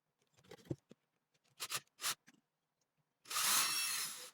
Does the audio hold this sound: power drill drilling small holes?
yes